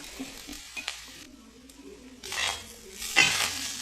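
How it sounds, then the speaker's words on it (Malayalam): Grated coconut roasts in oil in a metal pan on a stove, scraping and rustling, with intermittent clinks and bursts of sizzling hiss as it is stirred close by. "അത് നമ്മൾ കുറച്ച് എണ്ണ ഒഴിച്ചിട്ട് അതിലേക്ക് ഉരുളിയിലാണ് വറുത്തെടുക്കുന്നത്."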